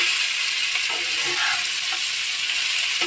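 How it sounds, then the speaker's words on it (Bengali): Potato, eggplant, onion and green chili frying in hot oil in a pan, a loud continuous sizzle with faint stirring knocks underneath, close and steady throughout, no voices. "তো এটাকে ভালো করে নাড়াচাড়া করতে হবে, আর কি ভাজা ভাজা করে নিতে হবে সবজিগুলো।"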